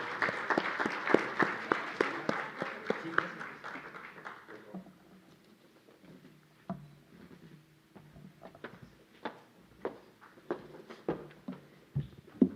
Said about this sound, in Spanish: Despidamos a nuestros ponentes con un fuerte aplauso,